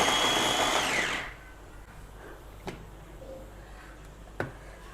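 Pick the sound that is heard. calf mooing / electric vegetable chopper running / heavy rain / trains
electric vegetable chopper running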